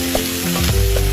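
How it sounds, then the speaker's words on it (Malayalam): Crushed onion, chili, ginger and garlic hit hot oil with spluttered mustard seeds for a roasted-coconut chicken curry, giving a loud, steady sizzle with a few stirring scrapes and no talking. "ഇതെല്ലാം ഇട്ട് ഒന്ന് വഴറ്റാം"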